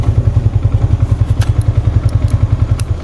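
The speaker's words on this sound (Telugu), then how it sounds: "వచ్చాడు బండి" A motorcycle idles close by in a narrow residential lane, its engine thumping in a loud, steady rhythm with faint clatter over it.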